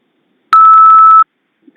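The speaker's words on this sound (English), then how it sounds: "Please speak loudly and clearly whenever you hear a beep." A single loud electronic tone from an automated telephone system sounds for under a second, a sharp steady beep standing alone in silence.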